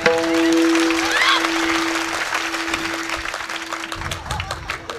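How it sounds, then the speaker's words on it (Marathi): An audience at a kirtan bursts into applause. The clapping starts loud and steady and thins out over a few seconds, with a sustained tone running underneath. "ह्यांनी लई टाळ्या बाजवल्या"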